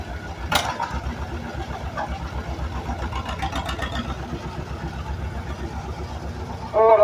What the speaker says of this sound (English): you can just hear that motor pulling, they're ready to go